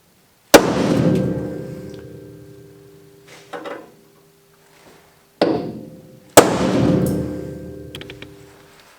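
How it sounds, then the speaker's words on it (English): Two sharp metallic strikes of a center punch on spot welds in a rusted Datsun 510 floor ring out, each followed by a long resonant decay, with a softer tap between them; close and loud in a quiet space. "first thing we need to do is we need a center punch on each spot weld"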